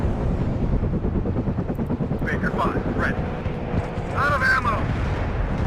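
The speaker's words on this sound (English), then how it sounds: "I'm going to bring in the anti-air chopper." An anti-air helicopter in the real-time strategy game WARNO, a steady rotor drone under dense battlefield noise with distant gunfire and explosions, plus a few faint electronic whistles.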